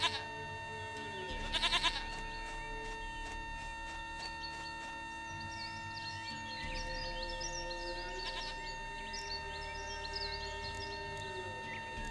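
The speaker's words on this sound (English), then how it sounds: "Goat of mine, dearest," Goat bleats from The Witcher 3: Wild Hunt, a few wavering calls over a steady game ambience with a constant tonal hum and occasional bird chirps.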